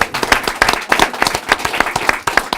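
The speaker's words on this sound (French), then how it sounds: "on peut l'applaudir" A small audience at a closing open-house event applauds a raffle winner who won a charcuterie prize, with loud, close, distinct individual claps in a fairly uneven rhythm lasting a couple of seconds.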